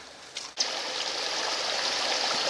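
Muddy River Hamble stream in Hampshire clay country flowing after heavy rain, a steady close rushing and trickling of water that holds constant throughout after a brief bump near the start.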